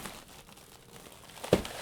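Brown paper packing from dry ice gets handled close up, soft rustling that builds to a sharp crinkling crunch near the end, with no talking.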